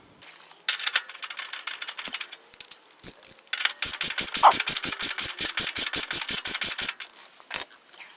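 A ratchet tightens the rear shock bolts on a Honda TL 125 motorcycle, with short bursts of clicks and then a long fast run of even ratcheting close by, without talk.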